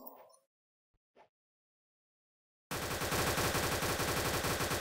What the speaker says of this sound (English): Why are you shooting at me, man?